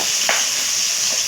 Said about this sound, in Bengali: ফুটছে তো মাছগুলো, ট্যাংরা মাছগুলো একটু দিয়ে দিলাম